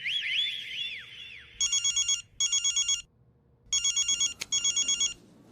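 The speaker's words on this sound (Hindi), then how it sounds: "कहा था मैंने, आ ही जाएगा फोन." A telephone rings with repeated electronic bursts in four clear double-ring groups, loud and close, following a brief warbling tone at the start, with no talking.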